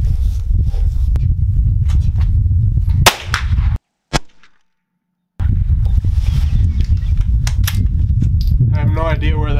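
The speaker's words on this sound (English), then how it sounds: "I'll shoot the middle plate and hopefully not my GoPro." Shots fired at steel target plates during a five-dot, five-shot shooting challenge: a sharp report cuts through steady outdoor noise, followed by a brief gap of near silence.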